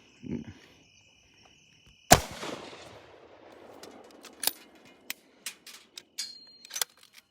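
A single loud rifle shot fired at a wild hog from a deer stand outdoors, a sharp crack that echoes away, followed by scattered clicks and small knocks of handling.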